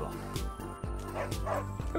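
A small dog in a video game barks and yips in short repeated bursts with a whimpering edge, fairly close and loud, with a voice talking over parts of it.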